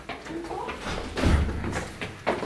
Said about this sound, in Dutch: De deur ging toevallig open.